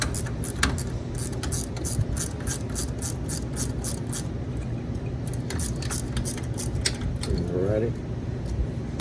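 A wrench works the bottom 15 mm caliper bolt on a 2012 Polaris Ranger UTV during rear axle replacement, giving rapid metallic ratchet clicks in close, steady runs with a short pause partway through.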